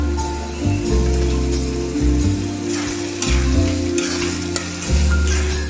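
Chopped boiled eggs fry in biryani masala, a loud, close, steady sizzle with repeated stirring scrapes rising and falling throughout, no talk.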